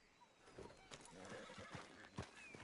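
A horse neighs and whinnies in the Red Dead Redemption 2 video game, with clip-clop hooves and bursts of movement underneath, fairly quiet overall, while a voice speaks briefly.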